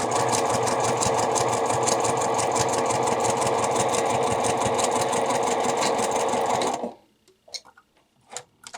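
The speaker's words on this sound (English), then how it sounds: "stitch as close as I can without going over the original stitches. Back tack at the beginning, back tack at the end." An electric sewing machine runs fast and steady, stitching garment fabric with a back tack at each end. A dense, even mechanical clatter continues for about seven seconds, then stops abruptly, leaving a few faint handling clicks.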